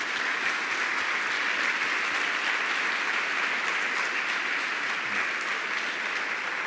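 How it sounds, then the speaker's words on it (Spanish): Sustained applause from a church congregation fills the clip, steady and dense throughout with no voices standing out. "Y este aplauso es para la gloria de Dios."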